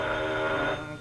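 An old telephone bell rings in a 1935 newspaper office, a single sustained metallic ring that fades out near the end, heard alone without voices.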